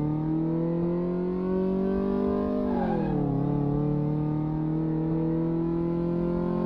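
A car in the Car Mechanic Simulator 2018 game runs on the test track with a steady, harmonic engine drone that dips briefly in pitch as it shifts and then settles back to a constant whine, with no talking.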